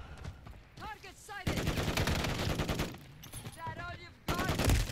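Automatic AR rifle fire in the video game M13B setup, rapid bursts of shots over about five seconds with short gaps between, mixed with other game sounds.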